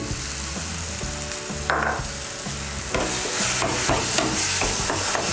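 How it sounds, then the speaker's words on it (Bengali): Ground roasted sesame paste worked into mashed eggplant for a Bengali egg-and-eggplant bhorta, heard as continuous close-up mixing and scraping with repeated stirring strokes, with no speech. "তিল বাটাটা মিশিয়ে নিচ্ছি।"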